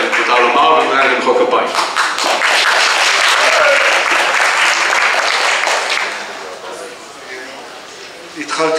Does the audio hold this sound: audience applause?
yes